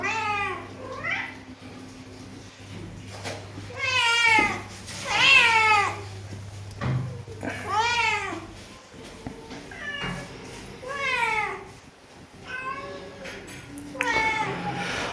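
Several house cats meow repeatedly and insistently close by, overlapping cries rising and falling across the whole stretch with brief pauses in between.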